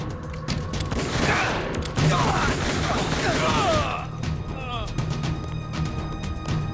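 Dense bursts of rapid gunfire and crashing impacts in the video game Metal Gear Solid: The Twin Snakes, loud and continuous for several seconds, with voices mixed into the game sound.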